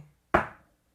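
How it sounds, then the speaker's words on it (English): A single sharp knock on a hard surface, likely a door, close and fairly loud with a quick decaying ring, alone in an otherwise quiet moment. "Knocking."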